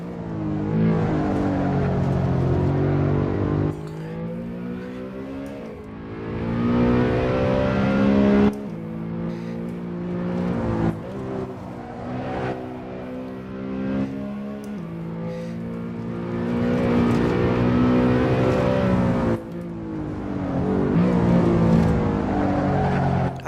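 A car engine in a video game revs and pulls hard around the Nordschleife, with repeated rising pitch sweeps cut by abrupt gear shifts, loud and close for the whole stretch.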